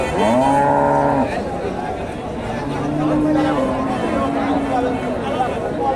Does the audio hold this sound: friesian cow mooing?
yes